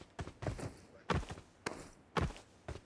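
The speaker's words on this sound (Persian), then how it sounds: "صدا پا گرفتی؟" Footsteps sound as about four heavy, evenly spaced thuds on a hard surface, quiet and fairly close, with no voices over them.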